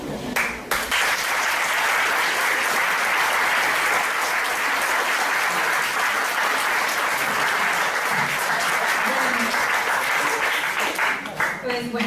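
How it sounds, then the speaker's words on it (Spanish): An audience applauding after a talk on moral relativism, loud continuous clapping that holds steady for several seconds and thins out near the end. "Pues bueno, ese aplauso le dijo todo."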